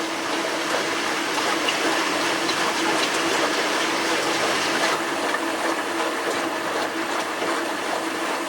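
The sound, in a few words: pump with a lot of water flowing through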